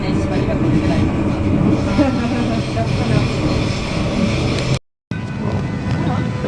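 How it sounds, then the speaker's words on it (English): Brisbane City and Gold Coast train at Eagle Junction, a steady rumbling roar of the train passing close by, with a brief cut near the end. "There goes the Brisbane City and Gold Coast train."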